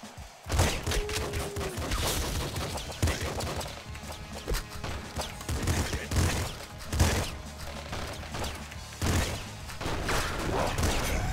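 Video game shotgun fire in a dense, chaotic fight: loud repeated blasts and crashing impacts at close range, dense and overlapping over steady game noise, with someone talking intermittently.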